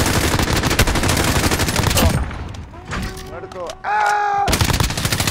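Gunfire from the shooter video game Call of Duty Warzone, loud rapid bursts packed densely through the first two seconds and again at the end, with a quieter gap in between where someone shouts over the game.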